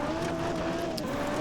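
Car engine in the Exo Rally Championship video game, a steady mid-pitched drone held at constant revs for a brief moment, loud and close, with no other sounds.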